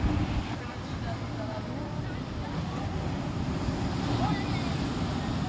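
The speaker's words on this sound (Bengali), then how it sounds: "সমুদ্রের যে ঢেউগুলো খুব বড় বড় ঢেউ আসছে এখন" Large monsoon sea waves surge and break at Digha's Old Sea Beach during high tide, a steady close roar of surf mixed with wind noise on the microphone.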